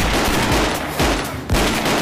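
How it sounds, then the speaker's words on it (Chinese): Gunfire in a John Woo-style movie shootout: heavy, dense shots crack out in quick succession, with sharp loud bursts standing out over a continuous roar of firing and no voices. "老白开枪打中光头"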